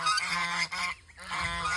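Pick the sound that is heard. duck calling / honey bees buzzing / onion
duck calling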